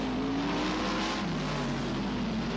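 Sprint cars roar around the dirt oval at Parramatta City Raceway during the Winter Nationals, a dense, sustained engine drone with pitch slowly shifting as cars circle, loud and without talk.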